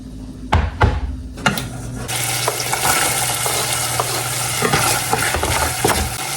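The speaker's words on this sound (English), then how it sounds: "We melt 2 tablespoons of margarine or butter." Margarine melts in a saucepan on a stovetop, starting with a few sharp knocks and clatters before settling into a steady, loud close sizzle and crackle of frying fat.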